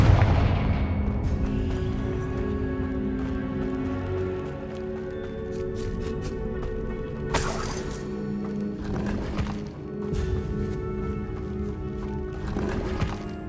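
Blasts from the Confringo fire spell in the game Hogwarts Legacy: several sharp explosive bursts, spaced a few seconds apart, cutting through a constant layer of background music and ambience.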